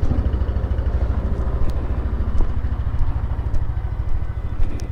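A motorcycle engine runs with a steady, low throbbing pulse, close and continuous, with faint clatter and no talk over it.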